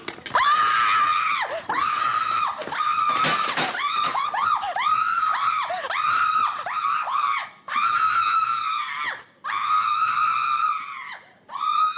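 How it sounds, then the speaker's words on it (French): Many people scream in a school cafeteria, high shrill voices overlapping in continuous loud waves with a few brief pauses. "si je me mets à crier, tout le monde va partir en hurlant"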